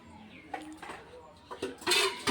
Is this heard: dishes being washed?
yes